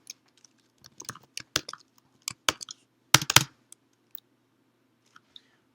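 Computer keyboard keys tapped in short scattered bursts while entering values into MATLAB code, close and fairly quiet, with gaps between keystroke clusters and no talking.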